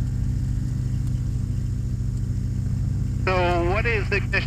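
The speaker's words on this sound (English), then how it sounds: "There's just the ever so slight RPM drop when I switch the ignition." A newly installed engine on a de Havilland Beaver aircraft runs at a steady, loud drone with a low throbbing hum; a voice starts talking over it near the end.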